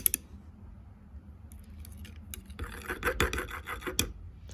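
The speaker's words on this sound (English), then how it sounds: "I'm going to stir up all this glitter." Glitter is stirred into liquid plastic in a 6-ounce injector for making soft stick baits, producing quiet scraping and rattling strokes that grow busier and louder in the second half.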